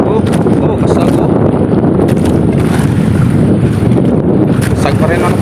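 Strong wind buffeting the microphone aboard a small lobster fishing boat at sea, with a constant loud roar of wind and waves across the whole stretch, a voice faintly audible beneath.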